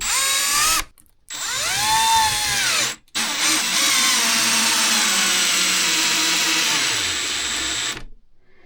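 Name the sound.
Milwaukee SubCompact drill/impact driver running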